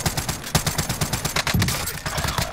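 Rapid automatic gunfire from a Warzone Plunder match rattles in fast, dense bursts throughout, loud and close, with a brief voice underneath.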